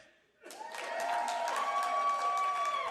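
Applause from a live podcast audience in Boise swells suddenly after a brief quiet and holds steady as a full, continuous wash of clapping.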